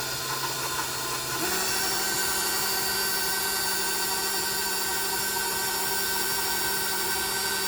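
An electric mixer beats blueberry coffee cake batter with a close, loud, continuous motor whine whose pitch steps up about a second and a half in, then holds steady.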